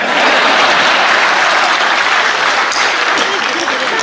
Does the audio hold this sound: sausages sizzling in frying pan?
no